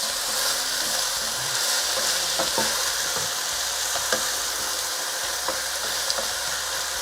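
Onions softening and turning golden in a pan for a home-style Indian chicken curry sizzle steadily, with occasional clicks and stirring taps over a low hum.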